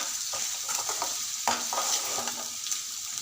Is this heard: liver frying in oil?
yes